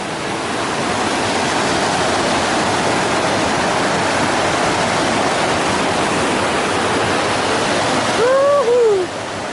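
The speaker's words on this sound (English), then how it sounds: "This is Benwood Meadows Creek." Benwood Meadows Creek, a mountain creek on the Pacific Crest Trail, rushes steadily with loud, broadband whooshing water noise throughout, near and continuous, with a brief higher whistle-like sound near the end.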